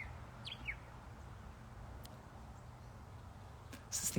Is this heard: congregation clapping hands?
no